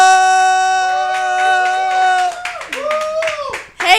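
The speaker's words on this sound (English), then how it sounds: "give her a warm round of applause" Audience claps for a comedian taking the stage at a comedy night, with loud clapping under a sustained tonal hum, and voices and cheering rising toward the end.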